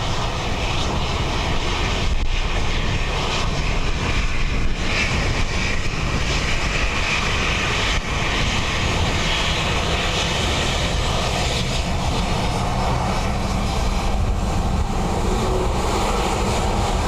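Ryanair airliner landing on runway 28 left at Dublin Airport on a windy day, a continuous loud jet engine roar with rushing wind noise and no let-up.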